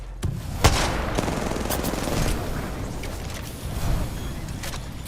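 Gunfire in the Apex Legends battle royale shooter, a steady close barrage of rapid automatic shots with sharp reports and a dense rumbling fusillade running throughout.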